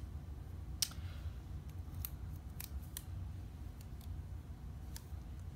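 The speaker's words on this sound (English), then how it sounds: "So I'm going to take my scissors and kind of cut." Faint scissor snips, a handful of sharp crisp cuts spaced irregularly over a low steady background hum.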